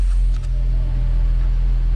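A Porsche 987 Gen 2 Boxster S with the sports exhaust idles with a deep, steady low rumble. It is close and continuous, with no talking.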